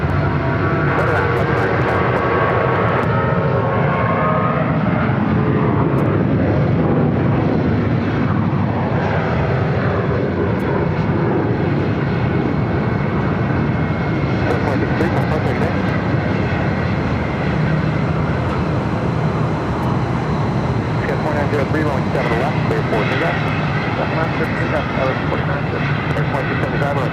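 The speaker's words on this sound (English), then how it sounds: "American Airlines flight 2223 is 737-800." Loud, steady roar of an American Airlines Boeing 737-800 jet passing at Phoenix airport, its engine tone sweeping and shifting as it moves past, heard close and sustained throughout.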